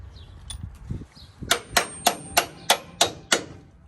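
A 9/16 bolt on a truck's drop bracket for a lift kit is tapped into place with a hammer: a few light knocks, then seven sharp metallic strikes in a steady rhythm, close and clear.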